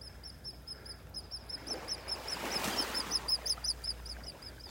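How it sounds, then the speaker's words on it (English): Seagulls call while flying overhead on a beach in North Naples, Florida, a string of faint, rapid chirping cries over soft surf and wind. "Seagulls flying by."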